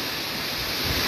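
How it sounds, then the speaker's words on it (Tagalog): Heavy rain driven by strong wind in Torrijos during a storm, a dense, steady roaring wash that fills the whole moment loudly without any break and with no voices. "ang malakas na buhos ng ulan na may kasamang malakas na hangin"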